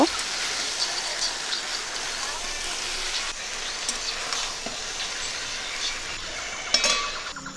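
Fried prawns are stirred into a taro stolon curry in a pan, producing a moderate, continuous sizzle with scattered spatula clicks and a sharper scrape near the end.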